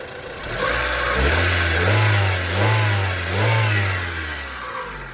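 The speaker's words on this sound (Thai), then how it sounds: "เราฟังอัตราเร่งกันนะครับ" A 1990s Honda Civic engine revving up and pulling away in repeated surges, the low engine note rising and falling through several throttle blips, loud and close with no voices.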